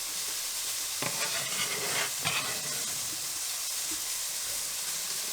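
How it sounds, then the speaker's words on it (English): Sausage, onion, carrot and fennel sizzling in a hot pan, with a steady close hiss and a couple of brief scraping stirs partway through. "we'll give that a stir so that fennel can start to cook as well"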